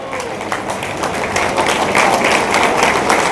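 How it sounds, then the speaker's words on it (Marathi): A standing audience at a chemists' association ceremony claps for an elderly guest named Appa, a dense sustained round of applause from a crowd that swells slightly over a few seconds and fills the room. "आता आपण उभं राहून टाळ्या देऊ अप्पांसाठी"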